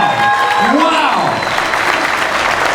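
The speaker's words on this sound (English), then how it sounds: "Would you please give yourselves a round of applause?" Audience applause at a fundraising pledge event fills the room with a steady, loud wash of clapping throughout, and a brief voice rises and falls early on.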